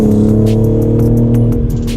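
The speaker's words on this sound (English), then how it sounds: "Very, very satisfied with this AWE exhaust with the mid-pipe." A BMW G82 M4 fitted with an AWE exhaust and mid-pipe gives a loud, close engine drone with a deep, rumbling burble and crackly pops, holding near-steady revs throughout.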